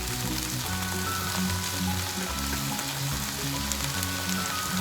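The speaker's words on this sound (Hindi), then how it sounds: "तेज आंच पे हम फ्राई कर लेंगे वेजिटेबल्स को" Vegetables frying over high heat for Singapore-style rice, a steady dense sizzle running throughout with low rumbling underneath, close and continuous with no voices.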